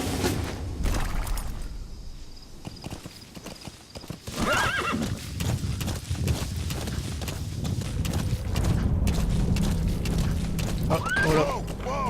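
Steady clip-clop of hooves at a gallop in Metal Gear Solid V: The Phantom Pain, loud and close, with a horse neighing sharply near the end; faint voices murmur underneath.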